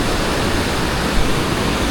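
The River Exe flows past an old mill site, a steady broadband rush of moving water with no breaks, close and fairly loud throughout.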